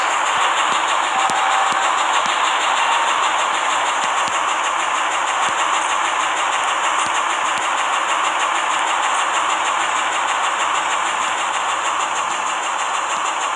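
A train in the Roblox game Jailbreak rolls on with a steady, loud mechanical rumble and a rhythmic clickety-clack of wheels, heard alone with no voices.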